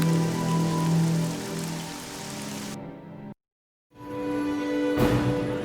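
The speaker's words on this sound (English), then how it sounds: "It is raining" Steady rain patters in the video game Neverwinter Nights, a dense broadband hiss that cuts out to silence briefly midway, then resumes just as loud.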